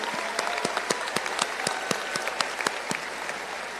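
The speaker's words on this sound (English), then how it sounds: "One more round of applause for our graduates going on and moving on to the military." Dense, steady applause from a large crowd at the McAllen High School 2024 graduation ceremony, honouring graduates heading into the military; sharp individual claps stand out from the continuous wash of clapping.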